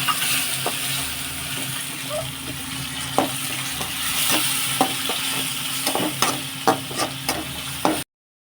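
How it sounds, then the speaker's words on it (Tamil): Ground tomato is stirred into fried onion and garlic in a pan for a Tamil fish curry: a steady sizzle runs throughout, with a spoon scraping and tapping the pan in irregular clicks, loudest near the end. "நம்ம தக்காளி அரைச்சி வச்சுருக்கோம் அதை ஆட் பண்ண போகிறோம் ஆட் பண்ணி நல்லா மிக்ஸ் பண்ணிக்கலாம்"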